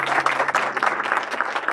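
An audience claps for a NEET topper at an indoor gathering, a dense, steady burst of applause from many hands, loud and close throughout.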